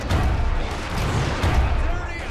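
Shrapnel shot artillery fire in the video game Fall of the Samurai, a dense, continuous roar of booming blasts and crackling impacts that stays loud throughout the short battle scene.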